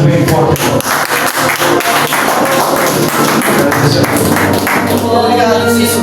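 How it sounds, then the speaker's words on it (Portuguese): A church congregation applauds loudly for Jesus at an inauguration service, dense rhythmic clapping with thumps, loud and close, while a voice continues over it. "Aplaudir Jesus bem forte."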